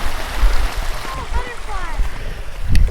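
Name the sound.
rushing river water like a waterfall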